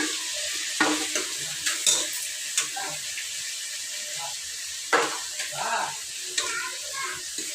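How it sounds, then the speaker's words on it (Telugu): Mutton pieces coated with chilli powder, salt and turmeric being mixed with a ladle, giving repeated scraping and clinking strokes against the pot at an irregular rhythm, close up, with no talking. "ఇంక ఇప్పుడు గంట తీసుకొని ఒక్కసారి అయితే బాగా కలిపేస్తాను"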